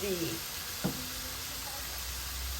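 Hamburger patties frying in a pan, a steady soft sizzle with a brief knock of a utensil and faint voice fragments near the start.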